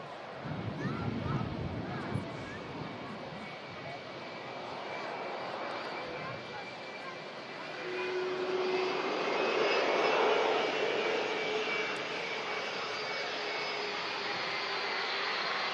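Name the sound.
airplane taking off at Manchester Airport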